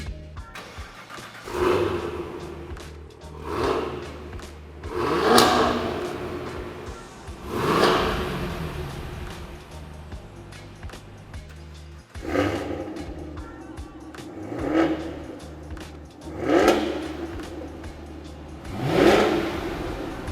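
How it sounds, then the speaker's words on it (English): A Cadillac V8 sports sedan exhaust revs repeatedly, each throaty roar rising and falling in regular bursts between idling rumbles. "the exhaust note is way more important"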